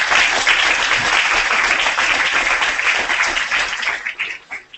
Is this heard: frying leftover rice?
no